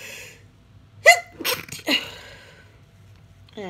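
A single sharp sneeze bursts out up close, followed by a couple of brief breathy sounds, then near silence.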